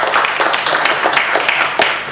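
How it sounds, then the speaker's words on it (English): An audience claps after a guest lecture on occupational and environmental nutrition, a brief patter of scattered hand claps of moderate loudness in a room. "Once again, give a big applause for Dr."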